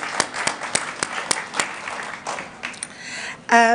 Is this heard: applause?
yes